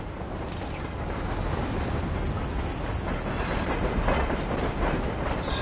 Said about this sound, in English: Can I get on the train?